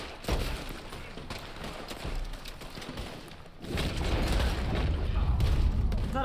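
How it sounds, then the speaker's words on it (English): Pistol shots ring out in the Western shooter game Red Dead Online, several sharp cracks scattered across a busy gunfight, with heavier booms swelling toward the end amid faint background voices. "I'm going to use my pistol instead a little bit"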